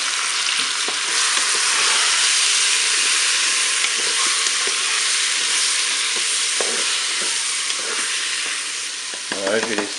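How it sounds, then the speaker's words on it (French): White sausages and apples fry in the bowl of a Cookeo multicooker, giving a steady, dense sizzle that holds throughout with occasional stirring clatter and a faint knock at the end. "je vais rajouter mes pommes dans la cuve"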